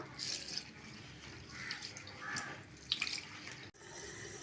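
Faint, steady splashing and trickling as rice is washed in water before being soaked for egg biryani, with a few small drips and sloshes; no speech.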